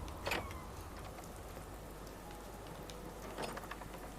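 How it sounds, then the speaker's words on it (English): Rain falls in Fallout 4, a faint, steady patter on surfaces with a couple of slightly sharper ticks, heard alone at low level throughout. "Just as the weather starts to take a turn, everyone loves playground time in the rain"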